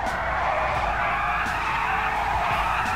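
A Coil Cyclone II electric car in GTA Online on PS5 brakes and skids with a continuous, loud tire squeal over a steady rushing roar that lasts throughout.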